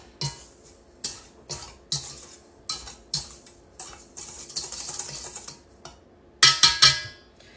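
A utensil clinks and scrapes against a bowl while mixing dry cake batter ingredients with brown sugar for an apple breadcake, making repeated rhythmic knocks close by that grow louder near the end.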